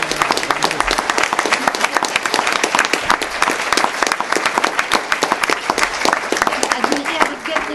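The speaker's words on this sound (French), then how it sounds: "On l'applaudit." Audience applause for the actors after an amateur theatre performance of Le père Noël est une ordure in Bordeaux: brisk, sustained clapping from a modest crowd with distinct individual claps audible, and voices murmuring underneath.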